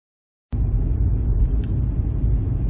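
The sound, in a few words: 2013 Seat Ibiza 1.4 Toca driving, road noise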